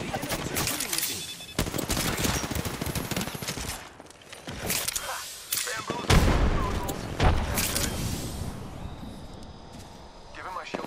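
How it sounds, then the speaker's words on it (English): Enemy gunfire in a sci-fi shooter video game, bursts of rapid shots and heavy impacts with a few booms, alongside voiced game announcements and player speech. "The enemies are shooting at me."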